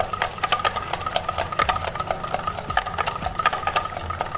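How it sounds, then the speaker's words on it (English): A whisk beats room-temperature butter with powdered sugar in a bowl, giving a close, steady rhythm of quick scraping strokes that repeats throughout without pause. "we will be creaming this butter with a whisk"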